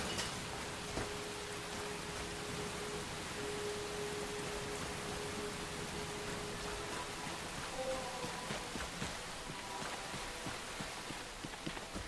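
Steady, even rain falls across an outdoor landscape in the video game Enshrouded, a continuous hiss of droplets with no voices.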